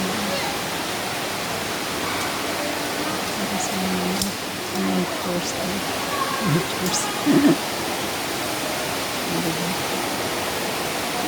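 Loud flowing water of a stream in Hong Kong Park rushes as a constant broad hiss throughout, with a person speaking briefly over it near the middle.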